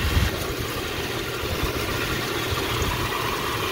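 A Jeep Cherokee 4.0 engine idles steadily while warming up, giving a constant, fairly loud low rumble with no revving.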